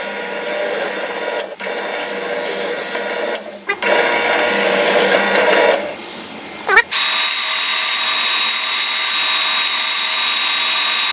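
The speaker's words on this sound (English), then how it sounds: "So now we've got our holes drilled" A drill bores dowel holes in wood in several bursts of whirring, with short pauses between them, ending in a longer continuous run.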